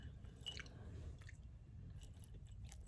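Close, steady chewing of crunchy dried chuck beef, with soft bites and crackles over a low, continuous mouth noise; no talking.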